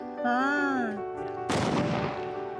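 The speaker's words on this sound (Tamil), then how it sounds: "லாஸ்ட்டு இந்த ஸ்மோக் முடிஞ்ச உடனே பிளாஸ்ட் ஆகி கலர் பேப்பராக வெடிச்சிடும்." A brief high whistling tone is followed by a sharp, loud burst of a Diwali smoke firecracker cylinder releasing colored paper, trailing off into a crackling, hissing decay.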